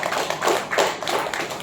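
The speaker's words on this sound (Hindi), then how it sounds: "तो फिर से इनके लिए जोरदार तालियां होनी चाहिए" Brief burst of applause at a seminar talk, a few seconds of scattered hand claps from an audience, moderately loud with no voices over it.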